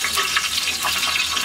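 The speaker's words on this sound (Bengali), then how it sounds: "মেথিটা যখন একটু গরম হবে, ভাজা ভাজা হয়ে যাচ্ছে" Fenugreek seeds frying in hot oil in a Bangladeshi home kitchen, giving off a steady, close crackling sizzle with soft pops and no talking.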